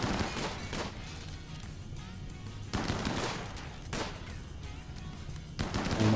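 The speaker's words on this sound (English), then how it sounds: "And open fire." Bursts of gunfire in the colony game Rimworld, several broadband volleys at about one-second spacing over a steady low rumble, loud and close with no voice over them.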